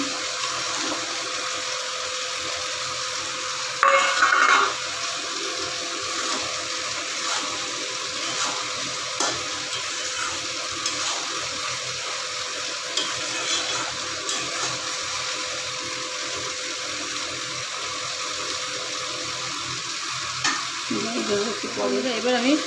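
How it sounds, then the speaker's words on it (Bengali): Potatoes dropped into hot oil in a pan for a vegetarian pointed gourd curry, frying with a steady broad sizzle throughout, a brief louder crackle burst as they go in and occasional stirring scrapes. "তেলটা ছেড়ে দিয়েছে এবার আমি আলুগুলো দিয়ে দিচ্ছি"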